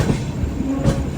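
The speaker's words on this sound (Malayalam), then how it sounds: "യാത്ര ചെയ്ത് ട്രെയിൻ ഇതാ മഹാരാഷ്ട്രയിലെ വസൈ റോഡ് സ്റ്റേഷനിലേക്ക് എത്തിയിരിക്കുകയാണ്" An express train pulls into Vasai Road station in Maharashtra, a loud, close rumble of rolling railcars with clickety-clack wheel noise and faint squeal, continuous for the short stretch.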